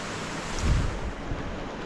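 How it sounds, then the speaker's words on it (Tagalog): Heavy rain pours down as a dense, even hiss beside a house, with a soft low rumble swelling briefly in the middle. "Ang lakas na ang ulan."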